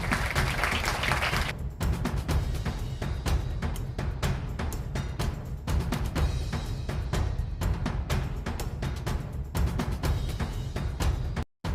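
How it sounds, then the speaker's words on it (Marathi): Loud, sustained applause from a crowd at a school taluka-level wrestling competition, dense clapping filling nearly the whole stretch without pause before cutting off abruptly at the end. "आता जोरदार टाळ्या वाजवायच्या."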